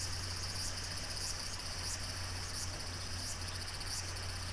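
Summer cicadas drone outdoors with a faint, steady buzz and soft pulses repeating at an even rhythm.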